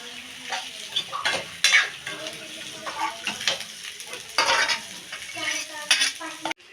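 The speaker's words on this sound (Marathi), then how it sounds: "तेलात टाकल्यावर छान असे हलवून घ्यायची" Eggplant curry frying in oil in a home kitchen, a spoon stirring it with intermittent scraping clatters against the pan over a steady low sizzle, close and moderately loud, no talking.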